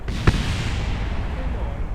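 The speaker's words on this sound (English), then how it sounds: "Massive explosion." Massive explosion in the Kerbal Space Program video game: one sharp, loud blast near the start that quickly decays into a low rumbling tail, with voices faintly underneath.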